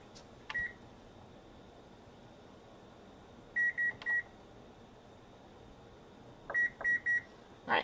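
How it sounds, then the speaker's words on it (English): An electronic timer chirps once, then sounds two quick sets of three sharp beeps, crisp and close against a quiet room hum, with no one talking. "I've got a timer going for 5 minutes"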